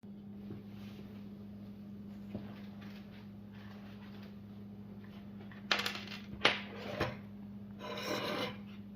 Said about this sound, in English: So here comes a little screwdriver. There you go. So I'm gonna bust it open and see what happens.